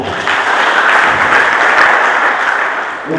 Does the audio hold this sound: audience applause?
yes